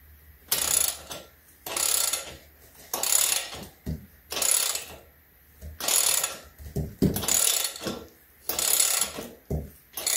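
A ratchet wrench tightens the wheel nut on a heavy-duty steel mesh foldable garden wagon, sounding as loud, close rhythmic bursts of clicking, about eight strokes with brief pauses between them.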